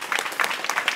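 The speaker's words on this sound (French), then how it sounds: "vous pouvez les applaudir" Brief burst of audience clapping at a Paris dance battle, uneven claps coming in quick clusters over about a second.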